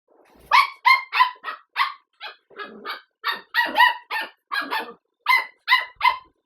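Repeated dog barks, loud and close, coming in a steady series of short sharp bursts with brief gaps between them.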